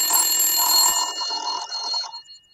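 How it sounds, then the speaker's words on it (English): A ringing telephone bell sounds close and loud, with a steady metallic trill that warbles briefly and then fades out after about two seconds. "people want the phone. So, ring a ding."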